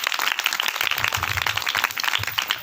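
Audience in a church sermon gathering clapping loudly, dense sustained applause lasting a few seconds, close and full.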